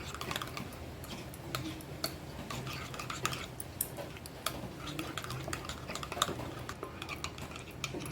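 A spoon stirs spice powder into a bowl for Hyderabadi paneer masala: quick, irregular clicks and scrapes of metal against the dish, close and crisp, over a quiet background with no talk.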